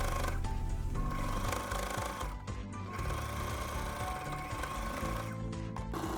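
A sewing machine stitches dress facings to sleeves. Its motor whirs close and loud in a continuous rapid hum, with brief slowdowns, and no one talks.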